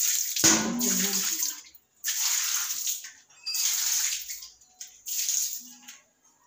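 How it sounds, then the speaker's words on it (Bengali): Water splashing and washing across a kitchen floor, coming in several separate sloshing, hissing bursts with quiet gaps between them, close by and with no voices. "রান্নাঘরে জল ধুয়ে রান্নাঘরটা ধুবো।"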